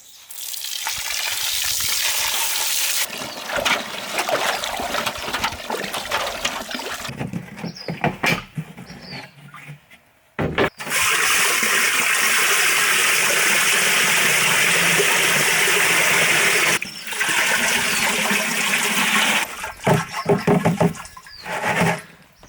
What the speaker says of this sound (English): we're just going to mix a bunch of water into it to make milk of lime, which is basically a milk consistency, and then dump it through a screen into a barrel